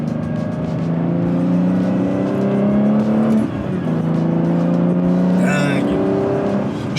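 A 2005 Aston Martin Vanquish S engine pulls loudly under way, its tone climbing steadily, dipping briefly midway at a shift, then climbing again, with a short high squeal near the end.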